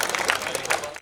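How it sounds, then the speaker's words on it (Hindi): An audience at a comedy storytelling show breaks into a burst of dense clapping that stays lively for about a second, then cuts off abruptly. "ताली ढंग की बजाओ यार"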